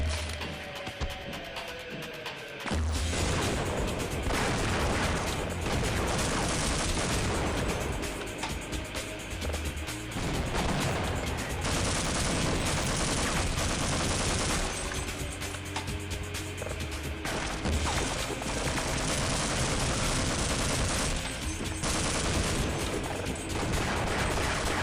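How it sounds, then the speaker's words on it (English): In the Half-Life video game, an M1A1 Abrams main battle tank fires its main cannon while HECU soldiers shoot, a dense, loud barrage of blasts and gunfire that runs almost without pause after a brief quiet start. "The M1A1 Abrams is the HECU's main battle tank. Here, it shoots its main cannon only."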